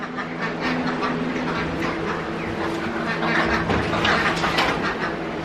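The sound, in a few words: pet quail moving around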